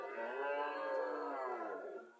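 A Sahiwal heifer calf at a cattle market in Comilla's Mirshani bazaar gives one long, close, loud moo lasting about two seconds, with no voices over it.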